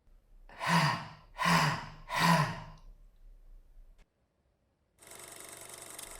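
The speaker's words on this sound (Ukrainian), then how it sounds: "видихай повітря в три прийоми. При цьому ти маєш кожен раз видавати горловий звук хах" Three forceful, breathy throaty "hah" exhalations in an even rhythm, close by, from a breathing exercise, followed by silence and then a steady hiss.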